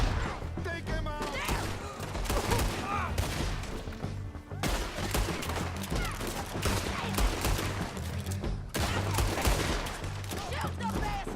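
Bursts of gunfire from Red Dead Redemption 2 crack out in rapid, overlapping volleys during a shootout, loud and close, with shouting voices heard among the shots.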